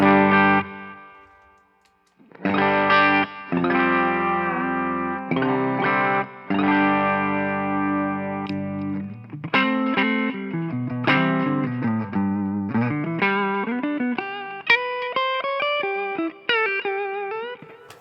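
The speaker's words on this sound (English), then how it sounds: "So if we listen to just the compressor side" Electric guitar run through a compressor pedal, played as sustained, even-level chords followed by a more active melodic phrase, loud and alone with no speech.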